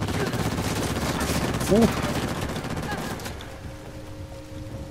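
Sustained enemy gunfire in Uncharted: The Lost Legacy, a dense, steady crackle of shots under a brief grunt from a player, thinning out in the last second or so.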